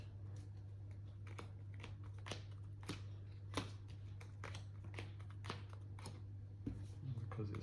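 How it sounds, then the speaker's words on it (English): Marvel United board game cards are shuffled by hand, making a run of quick, crisp papery taps and flicks close by, fairly quiet, over a low steady hum. "Then I'll give them a shuffle."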